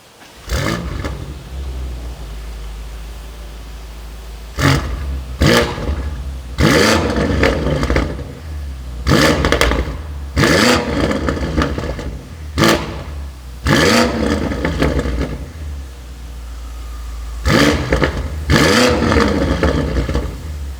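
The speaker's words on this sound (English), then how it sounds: "I'm not sure if it's going to be a full cold start because it is a little bit warmer" A BMW M8 Competition fitted with downpipes starting cold, loud close engine roars and revs rising in repeated bursts over a steady rumbling idle, no one talking.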